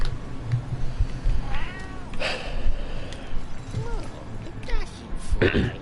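A cat meows in the video game Pyre, giving a few short, clear mews over soft game ambience while someone talks.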